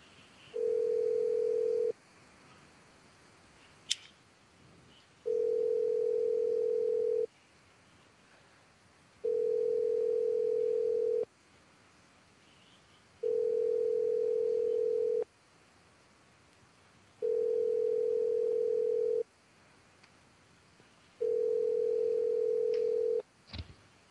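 A telephone ringback tone sounds while calling a work phone, six evenly spaced long tone bursts separated by quiet gaps, steady and clear with no one answering or speaking.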